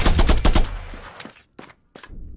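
Full-auto gunfire in a VR first-person shooter game, a loud rapid burst of close shots followed by a few separate short bursts with brief silences between, no talking.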